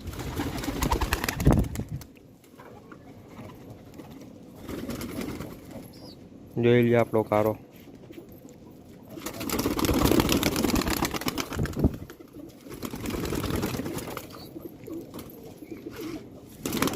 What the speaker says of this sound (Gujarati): તો આ બીજા અંદરના કબૂતર છે ને